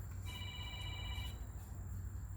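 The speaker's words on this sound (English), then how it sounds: "my phone's ringing, I don't care." A faint electronic phone ring, one brief trilling burst over a steady low hum.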